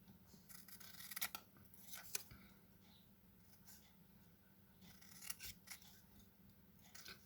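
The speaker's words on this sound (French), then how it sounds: "je vais découper les crafts." Scissors snip through craft paper in a quiet room, making a few short, crisp cuts in clusters with soft rustling and rubbing of the paper between them.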